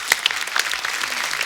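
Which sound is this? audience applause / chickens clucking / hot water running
audience applause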